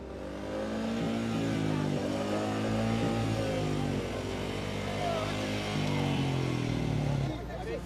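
A motorcycle stuck in a deep, fast river crossing on a Ladakh mountain route revs its engine in a sustained, strained drone, rising and falling slightly, with people talking over it.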